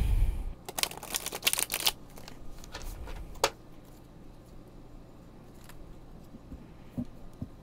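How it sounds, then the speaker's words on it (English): A deck of playing cards is shuffled and split close by, giving a quick burst of papery riffling flutters and snaps that fades into a few scattered soft clicks against a quiet room. "So I'm gonna shuffle these for you, Gund"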